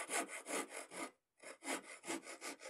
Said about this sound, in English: I'm going to start off with my Japanese rasp. just to start smoothing the edges a little bit.